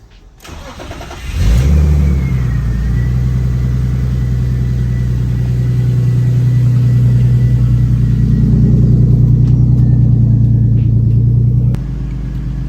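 A turbocharged BMW E46 engine cranks briefly, catches and settles into a loud, steady idle close by, then the idle note drops slightly near the end.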